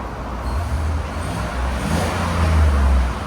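Low, steady idle from the stock exhaust of a 2018 Chevy Silverado Z/71 with a 5.3L V8, a quiet, smooth bass hum outdoors that rises a little in level near the end.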